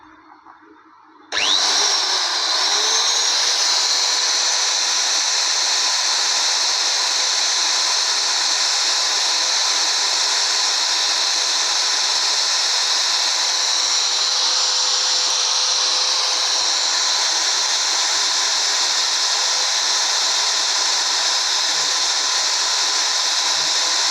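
A power drill bores holes through a ring striker, starting abruptly after a faint tap and then holding a loud, steady high-pitched whine for over twenty seconds, close and with no speech.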